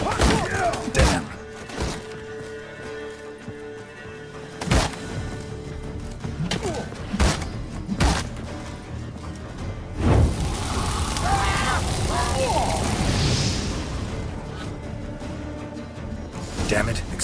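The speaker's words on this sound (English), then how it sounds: "Damn it, explosion triggered that fight." An explosion in The Witcher 3 blasts open a vault, bursting into a long roaring rumble with debris crashing. It follows a series of heavy thuds and impacts as game sounds play around it.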